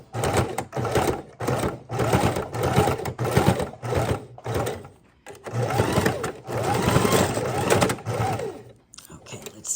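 A sewing machine stitching along the crease of a mini junk journal, running in several loud whirring bursts separated by short pauses, with a person talking over it.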